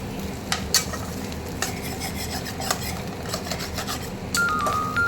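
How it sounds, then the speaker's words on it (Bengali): Sliced spiny gourd (kakrol) fries in a pan with a steady sizzle, while a utensil scrapes and stirs in scattered sharp clicks; near and continuous, without talk. "এভাবে একবার কাঁকরোল ভাজা করে দেখো"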